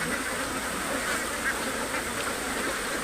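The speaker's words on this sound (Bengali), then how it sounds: "খাকি ক্যাম্বেল এবং জিন্ডিং ক্যাম্বেল হাঁস আছে।" A flock of Khaki Campbell and Jinding Campbell ducks quacking as a dense, steady chorus, many birds overlapping with no clear gaps, held at a constant level.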